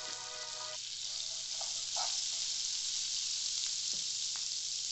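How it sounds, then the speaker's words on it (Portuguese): Steady, soft sizzling of butter melting in a pan over low heat, a continuous frying hiss with occasional small pops, close and fairly quiet throughout. "Aqui eu vou deixar a manteiga até derreter"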